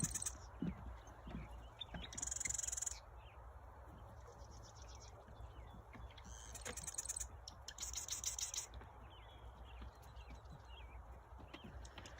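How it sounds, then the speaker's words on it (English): Birds call outdoors in short, high bursts of chirping and trilling separated by pauses, over a quiet background with faint scattered noises. "I'm going to be quiet for a minute so you hear the birds."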